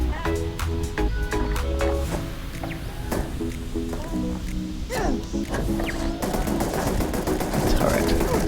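Razorback rifle firing in the video game Starfield, a burst of sharp repeated shots over game music and ambience, with no talk.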